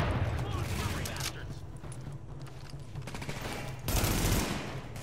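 Shotgun fire in the video game The Division, heavy game gunfire bursts with booming blasts near the start and end, loud over a busy game soundscape, with faint talk underneath.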